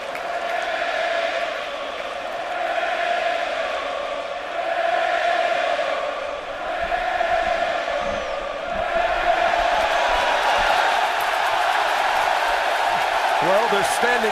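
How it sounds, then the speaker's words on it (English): A standing-room-only baseball crowd jeers pitcher Johnny Cueto, a sustained roaring chant that rises and falls in waves, growing louder and denser toward the end. "the standing room only crowd trying to get under Johnny Cueto's skin"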